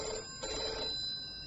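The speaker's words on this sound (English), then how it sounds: "The phone's ringing." A telephone rings in a radio drama scene, a steady electronic ring filling the short moment on its own with no talk over it.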